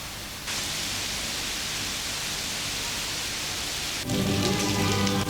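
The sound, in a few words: tropical rain in the cloister of San Francisco, Ecuador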